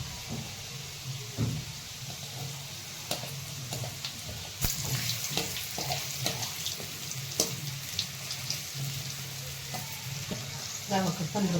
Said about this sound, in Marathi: तर असे मोदक सोडून घ्यायचे तेलामध्ये.